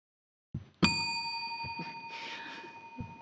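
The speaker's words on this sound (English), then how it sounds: "One of the judges will ring a bell." A spelling bee judge's bell gives one sharp, bright ding after a couple of soft knocks, its metallic ring sustaining clearly through a quiet hall with faint handling thumps around it.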